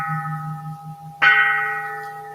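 A meditation bell is struck twice during a Zen service, each ring sounding clearly and then fading into a long, sustained hum. No talk is heard.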